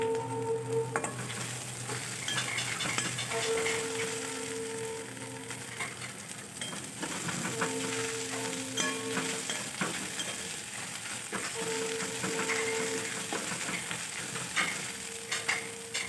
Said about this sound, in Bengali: আমি মিডিয়াম টু লো ফ্লেমে এটা ভালো করে ভেজে নিচ্ছি।